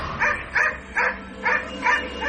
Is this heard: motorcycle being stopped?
no